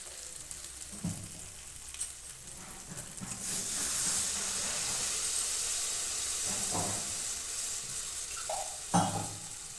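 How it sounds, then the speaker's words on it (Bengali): Water poured into hot oil with cauliflower and potato for a Bengali aloo-cauliflower dum sets off a loud, steady sizzle and hiss lasting several seconds, with a few clanks of a utensil before and after. "এখন এতে আমি জল দিয়ে দেবো"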